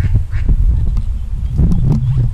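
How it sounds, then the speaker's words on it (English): Ducks on a canal near Oxford quacking close by, a busy cluster of honking, nasal quacks in quick irregular bursts over a low outdoor background. "Now being followed by an army of ducks."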